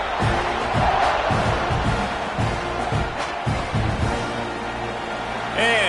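A football stadium crowd roars steadily at kickoff, a dense, loud mass of cheering and shouting that holds for several seconds and swells again at the end.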